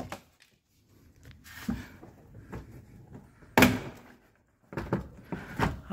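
Door trim panel of a VW Polo front door being pulled loose from its clips, scattered scraping and creaking handling noises with a sharp snap partway through, close to the mic.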